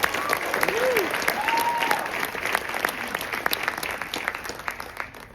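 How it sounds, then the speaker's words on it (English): Applause from the audience at an honors cohort exhibition night: steady clapping from a crowd in a hall, sustained and then gradually thinning out, with faint voices underneath. "Let's give them a round of applause."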